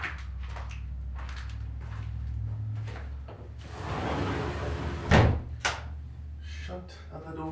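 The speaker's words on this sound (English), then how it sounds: "Shut the door." A door swings shut indoors, ending in a single firm thud with a short rattle just after, set against background talk and room noise in a home kitchen.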